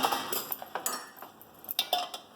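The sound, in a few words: stirring mixed vegetable bhaji with a spoon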